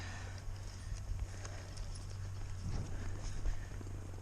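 Hooves of young colts clip-clop on the ground of a round pen, a loose steady plodding rhythm heard faintly at a distance over a constant low hum.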